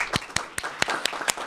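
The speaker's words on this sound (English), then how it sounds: "I want to be sure to give her a round of applause as well." Scattered hand claps from a small crowd at a police station ribbon cutting ceremony, a handful of sharp distinct claps over a soft ongoing patter.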